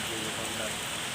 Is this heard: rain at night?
yes